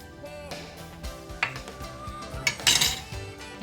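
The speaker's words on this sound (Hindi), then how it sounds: "अब दही में इसको अच्छे से मिक्स करूँगी।" A spoon stirs spices and salt into yogurt in a bowl while making chicken kadai. It gives close clinks and scrapes of utensil on the dish, irregular and sharpening into a cluster of metallic clatters near the end, with no talking.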